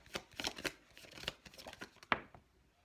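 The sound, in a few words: shuffling tarot cards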